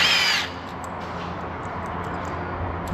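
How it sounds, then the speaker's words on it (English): Impact driver on 8mm bolts of a Kodiak 700, a brief loud high whine at the start that drops into a lower steady mechanical hum with faint clicks, close by and with no talk. "it's got the 1/4" drive on the back, so I can use it with my impact driver"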